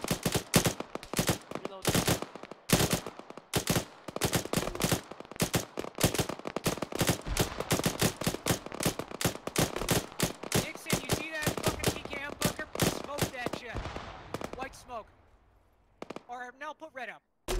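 Video game combat in ARMA 3: rapid machine gun bursts and single gunshots crack out in dense, irregular volleys, loud and near, with voices talking in between before the firing thins and fades toward the end.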